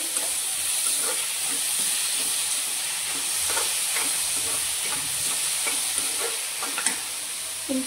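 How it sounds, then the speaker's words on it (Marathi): Tomatoes sautéing in a pan for bombil masala sizzle steadily up close, with a continuous bright hiss and repeated soft scraping taps of stirring; no voices. "आता ह्या स्टेजला टोमॅटो टाकायचे, हेही परतून घ्यायचे"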